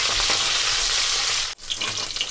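Pieces of pakal fish frying in hot oil as they are turned, a steady close hiss and crackle that cuts out abruptly for a moment, then resumes with scattered pops.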